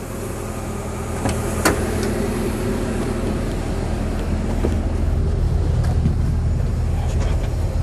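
A 2013 CAT 311 excavator with a special arm, its diesel engine running and rising in a steady, heavy drone, with a few sharp clicks and knocks near the start.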